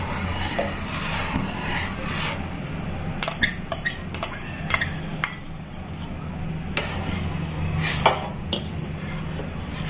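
Spoon stirring a thickening milk mixture in a pot for fruit salad, with irregular metallic clinks and scrapes against the pot over a low background hum.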